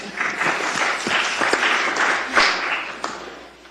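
A small audience claps briefly at a town council meeting, a short burst of moderate applause that fades out over a few seconds.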